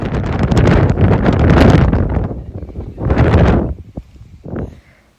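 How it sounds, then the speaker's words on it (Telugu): Loud, roaring wind on a hill by a beach in New Zealand buffets the microphone in long, heavy gusts, easing briefly before surging again, with a couple of shorter bursts near the end. "సడన్గా ఎక్కడి నుంచో గాలులు మేఘాలు ఫుల్గా వచ్చేసాయి"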